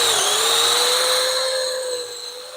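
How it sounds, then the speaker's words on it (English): A half-inch bit spins through metal in one steady, loud run, a high whining drone with a slight pitch drop as it bites, fading a little toward the end. "I think we can just run the 1/2 inch drill bit right through it"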